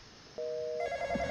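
Telephone ringing in a horror video game, an electronic tonal ring starting about a third of the way in, steady and clear with a second higher tone joining, close over a quiet background.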